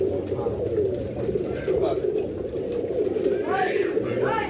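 Lalpuri pigeons coo in low, rolling murmurs close by while someone talks over them.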